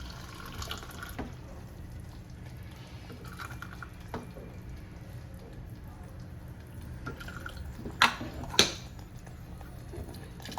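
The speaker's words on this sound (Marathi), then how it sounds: "गरम पाणी ओतायचं वरून" Hot water poured over a simmering amti in a pot makes a soft, continuous trickling and splashing, quiet and close, with two brief louder clinks of a vessel near the end.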